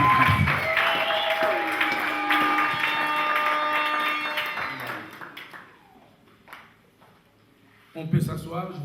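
A wedding congregation at a customary Congolese marriage ceremony applauds the Lord, steady clapping and voices filling the room for several seconds before fading into quieter murmurs, then a brief swell of talk and noise.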